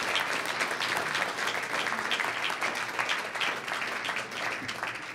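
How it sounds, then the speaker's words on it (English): An audience applauds the Cajon Cowboys, a group of cajon players, at a school board meeting, producing steady, dense clapping that holds at an even level for about five seconds. "Let's give them all a round of applause."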